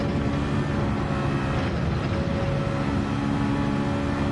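Steady, loud engine drone of a car in a VR racing simulator, a continuous low rumble with little change throughout, no voices heard over it.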